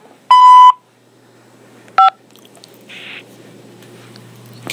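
Telephone keypad tones dial to accept a prison call: a single loud sustained beep, then a short second tone, followed by a fainter brief burst over a quiet line hiss.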